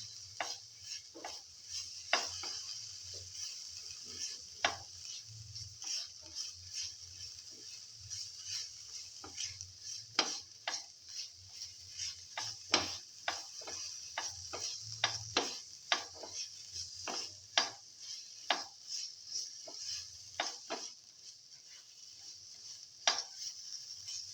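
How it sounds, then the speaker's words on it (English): Chicken sautés in a pan for a green chili tomato pilaf, giving a soft, constant sizzle with frequent sharp scrapes and taps of a utensil stirring against the pan, steady and close throughout. "Carefully saute."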